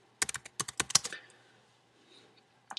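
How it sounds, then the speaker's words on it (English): Quick burst of computer keyboard typing, a dozen or so close, crisp key clicks in an uneven run, then a pause and a final keystroke. "So I'm just going to type in my credentials real fast."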